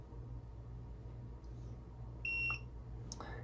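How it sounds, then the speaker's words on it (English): A few short electronic beeps from an RV tire pressure monitor as its set button is held, quiet and close, over a low steady hum, including one brief tone about midway through. "press and hold the set button until it beeps."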